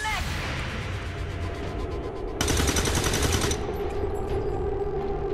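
Automatic gunfire from XCOM 2: War of the Chosen, a steady rattling barrage with a sharper burst in the middle, sitting under a constant bed of game noise.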